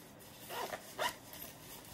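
A zipper pulls along a pocket on a Vera Bradley Featherweight bag, two quick soft zips close by, fairly faint, with no talking.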